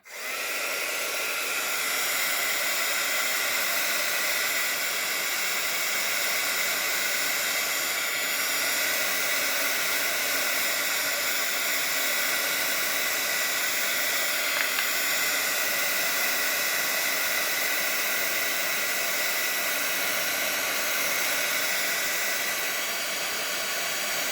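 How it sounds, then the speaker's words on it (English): A heat tool drying a watercolor card, blowing as a steady, even rushing hiss that runs unbroken from start to finish, close and fairly loud with no talk. "I'm going to bring in my heat tool and just dry this real quick."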